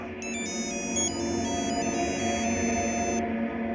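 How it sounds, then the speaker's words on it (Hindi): A phone ringtone plays a repeating electronic melody of high bright tones, steady and fairly loud over a low background hum, with no talking. "पुलिस स्टेशन से फोन है,"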